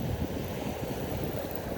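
Ocean waves recede over a sandy beach where Pismo clams are dug, giving a steady, close rushing wash of water with some wind noise and no voices.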